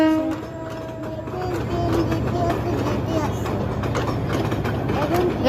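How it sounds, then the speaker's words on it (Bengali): A commuter train from Dhaka rolls past nearby with a steady rumble and rhythmic clatter of wagons, a short horn-like tone at the start, and a voice talking over it. "গাইস ট্রেন যাচ্ছে"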